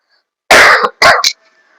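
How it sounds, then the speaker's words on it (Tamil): A close, loud cough followed by a second double cough, sharp and raspy, then silence. "இருமல் நிறைய வருது"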